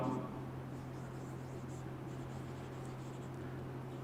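Steady scratching strokes of an equation being written on a board, soft and close, continuing under a low constant hum.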